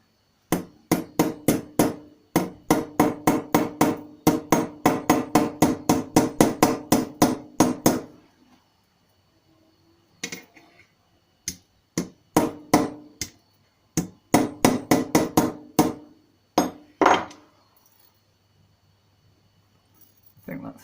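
Hammer tapping a metal floorboard of a Jaguar XK140 to narrow it at a bend: long bursts of rapid, sharp metallic blows near and loud, pausing, then resuming in shorter clusters.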